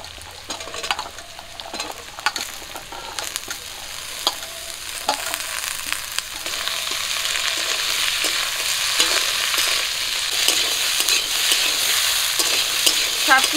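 Jackfruit seeds and potatoes frying in a pan with onion and green chili, a steady close sizzle that builds and grows louder, broken by scraping stirs.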